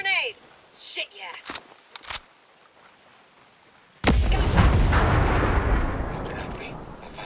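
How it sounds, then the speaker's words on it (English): A grenade goes off in the tactical shooter Ghost Recon Breakpoint: a few sharp shots and a brief voice come first, then one loud, close blast that rolls into a long, rumbling roar. "Gonna toss a grenade"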